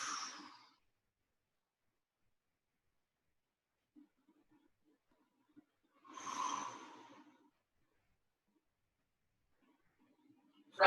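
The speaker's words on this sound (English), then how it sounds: "And 2 deep breaths into the hips." Two deep, audible breaths taken during a hip stretch in a home boot camp workout, each a breathy inhale-exhale burst separated by several seconds of near silence, close and moderately loud.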